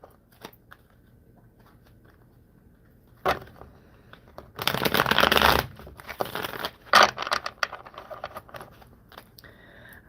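Tarot cards are shuffled in a few separate bursts of crisp riffling and flicking, close and loud between stretches of near quiet, with no talking.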